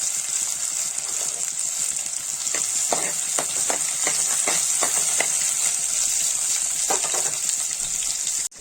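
Chopped onion frying in a hot pan, a steady close hiss with scattered brief crackles and pops building through the middle, no voices.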